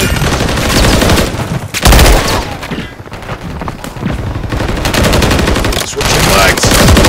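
BP50 assault rifle fire in the Call of Duty MW3 video game: dense, loud bursts of rapid shots rattle almost continuously, with brief pauses and occasional booms, and voices sound faintly in the mix.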